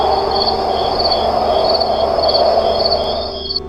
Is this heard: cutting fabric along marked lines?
no